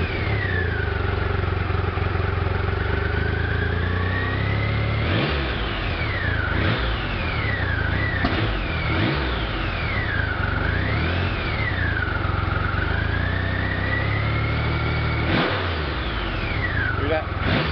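A Triumph Rocket III cruiser motorcycle revs loudly and accelerates through repeated rising and falling engine sweeps with gear changes, close and continuous for the whole stretch, while people talk beneath the engine.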